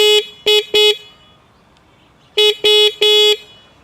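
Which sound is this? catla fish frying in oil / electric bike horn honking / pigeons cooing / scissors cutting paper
electric bike horn honking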